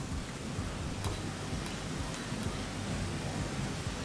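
Rain in the video game Rain World pours as a dense, steady hiss with a low rumbling undertone, constant and enveloping with a few faint crackles, no talking.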